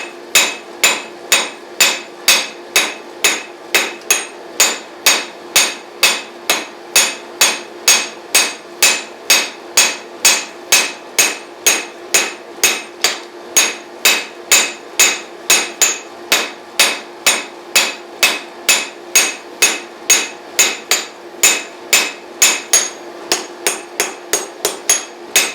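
Steady, evenly spaced hammer blows ring out as a knife blade is forged on a Harbor Freight cast steel Doyle anvil, dozens of loud, sharp metallic strikes in a regular rhythm, close up, with no talk.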